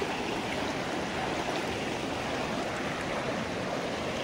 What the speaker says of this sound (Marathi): नदी आम्ही क्रॉस करत आहोत. ही बघा ही नदी.